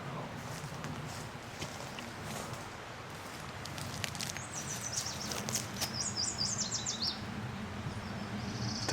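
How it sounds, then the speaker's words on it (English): Birds chirp and trill in short, faint bursts, mostly in the second half, over the soft steady rush of a stream along a forest trail. "Listen to those birds, listen."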